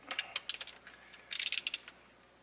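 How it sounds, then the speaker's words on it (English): A ratchet wrench drives a 10mm 12-point socket on a bolt while a new injector is fitted in a truck, giving quick, close metallic clicking in two bursts, with no talking. "this is a 10mm 12-point socket"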